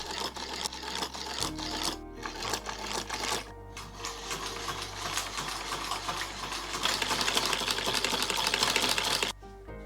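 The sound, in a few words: sewing machine stitching wool piping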